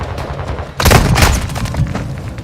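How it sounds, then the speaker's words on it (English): Precision airstrike explosions in a video game: a loud burst of booming blasts and rapid crackling detonations hits suddenly, then rumbles and fades under continued gunfire. "Enemy precision airstrike near your position."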